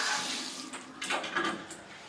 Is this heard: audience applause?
no